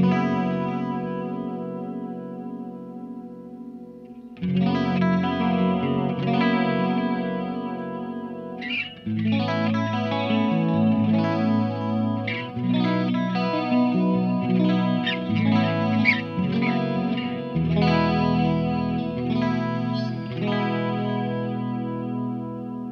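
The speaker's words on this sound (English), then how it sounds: "when you dress it up with some chorus and delay, it sounds freaking amazing" A clean electric guitar through a Lichtlaerm Prometheus amp's clean channel rings out chords and arpeggios with a shimmering chorus and trailing delay echoes, full and sustained after a brief quiet opening.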